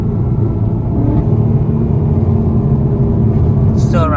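A Ford Mustang engine rumbles loud and steady inside the cabin after a paddle-shifter downshift, with a brief higher whine near the end.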